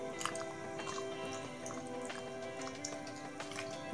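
Courgette and chicken cream soup is stirred after coconut milk and cheese are added, making soft wet squishing and dripping sounds with light clinks over a steady background hum.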